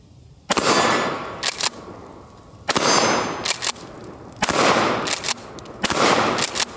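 A Mossberg Shockwave 590 shotgun is fired from the hip with 12 gauge mini shells, giving a few loud, sharp blasts a couple of seconds apart, each trailing off in echo, with softer clacks between.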